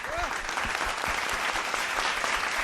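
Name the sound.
audience applause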